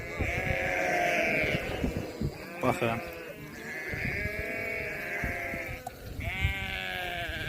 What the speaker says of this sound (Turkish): Əsl dağ keçisidir, dağ.